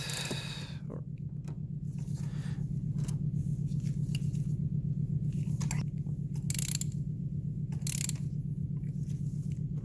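A ratchet clicks in quick repeated bursts while tightening NGK Iridium spark plugs on a 2006 Lexus IS350, close and crisp over a constant low hum.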